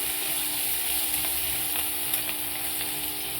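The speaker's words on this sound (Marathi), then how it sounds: "लसूण आणि आलं आणि 2-3 मिरच्या घेतल्या, त्याचा ठेचा आपण यामध्ये परतून घेऊ" Crushed garlic, ginger and green chilli paste sizzles steadily in hot oil with cumin in a pan, a continuous close frying hiss with a few faint stirring clicks.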